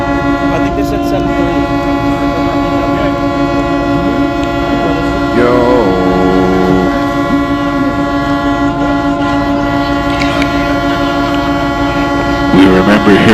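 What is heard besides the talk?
truck air horns honking at freedom convoy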